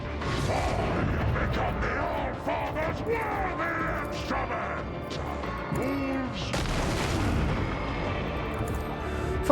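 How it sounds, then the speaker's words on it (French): Large explosions from the shrapnel damage of a bolter in the Warhammer 40,000 Rogue Trader video game, a dense run of booming blasts and gunfire-like bursts over a continuous loud battle din, with talking mixed in. "Pourquoi ça a fait des explosions aussi grosses? Ah oui, c'est les dégâts shrapnel de mon nouveau bolter."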